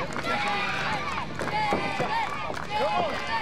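A wrestling match crowd cheers and roars in an arena, a sustained wash of voices and shouts while a commentator talks over the noise.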